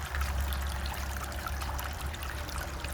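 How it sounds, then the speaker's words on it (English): Water trickles and runs into a prospecting bin, a faint, steady gurgling stream that keeps going for a few seconds with no talk over it. "I need to add a little more water to our bin"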